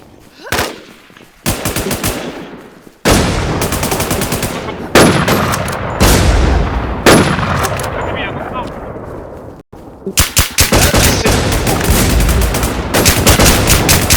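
Video game shooter gunfire crackles in loud automatic bursts and heavy booms, arriving in repeated blasts with short gaps, while players talk excitedly over it.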